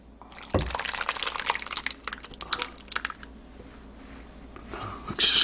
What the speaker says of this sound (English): So I'm now going to pour the sauce over the noodles.